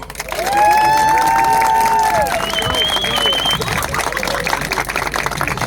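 Wedding guests applaud and cheer loudly for the bride after she says her vows, a dense, sustained wash of clapping and crowd noise with voices and whistle-like tones rising over it.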